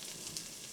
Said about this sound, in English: And as always, getting a nice sizzle is important.